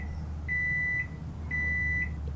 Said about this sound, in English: Have you guys ever microwaved a drink?